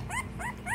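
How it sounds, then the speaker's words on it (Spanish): A newborn puppy that gets unwell after feeding whimpers in three short, rising, high-pitched cries, close and fairly soft, with quiet pauses between them. "ahí está el cachorro que te digo que se pone mal después de comer"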